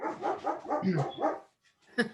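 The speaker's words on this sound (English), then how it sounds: "we got dogs barking" Several dogs bark in a quick run of loud, close yaps, then one more sharp bark after a short pause, heard during a morning Toastmasters meeting.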